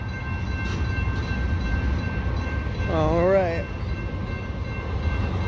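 A Union Pacific intermodal train rumbles past a road crossing, a steady rolling roar with a brief wavering horn-like tone midway, while a person speaks briefly nearby.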